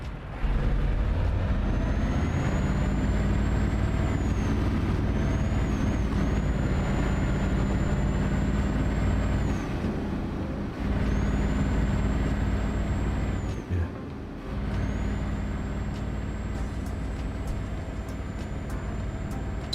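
Truck engine droning loudly and continuously in the Euro Truck Simulator 2 game, with a high whining tone rising and falling on top and brief dips where air brakes hiss and the engine note drops before resuming.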